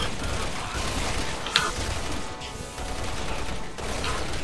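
Gunfire in Resident Evil 6, Ada campaign co-op on PS4: dense game sound with shots and mechanical clacks, one sharp crack standing out midway, continuous and fairly loud throughout.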